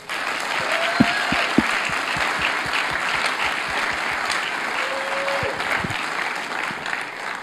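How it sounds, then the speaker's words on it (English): An audience at a debate on the resurrection claps warmly to welcome the speaker, with continuous dense applause and a few louder individual claps. "Can you please give a warm round of applause and welcome to Dr."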